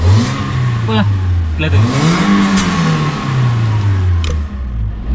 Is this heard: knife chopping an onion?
no